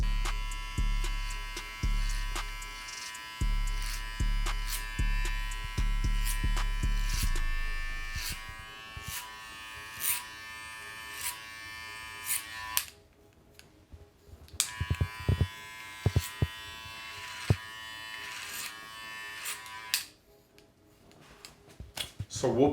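Electric hair clippers buzz steadily during a burst fade haircut, close and continuous with a constant whine, cutting out and restarting in short bursts toward the end.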